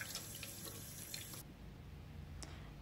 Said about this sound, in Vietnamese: Sau khi cắt á, thì mình rửa lại, mình rửa lại một lần để cho nó đừng có còn cái mủ